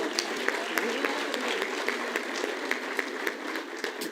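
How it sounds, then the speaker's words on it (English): An audience at a South African National Orders ceremony claps for a teacher, moderately distant applause with scattered sharp individual claps standing out over a softer, even bed of hand-clapping. "Can we give a hand to the teacher?"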